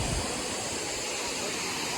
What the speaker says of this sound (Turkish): Bilmiyorum sesim geliyor mu da çok suyun sesi var.